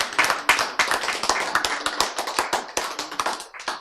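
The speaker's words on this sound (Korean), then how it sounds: "박수." A church congregation claps together in a quick, crisp run of hand claps that stays close and loud, with brief irregular bursts and no talking over it.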